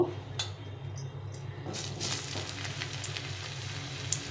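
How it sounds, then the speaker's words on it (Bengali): Potatoes dropped into hot oil in a home kitchen give a steady, even sizzling hiss throughout, with a few faint metallic clinks. "তেলটা গরম হয়ে গেছে, এর মধ্যে আলুটা ছেড়ে দিই।"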